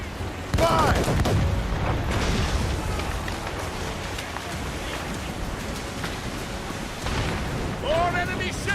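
Ship cannons boom in repeated heavy volleys during a naval battle in Assassin's Creed Rogue, loud low blasts with crackling debris and splashes, while shouted voices call out commands over the gunfire.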